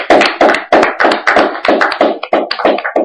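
A congregation claps together in steady, rhythmic unison to acclaim Jesus during a church service, about two claps per second, loud and close, with no voices on top.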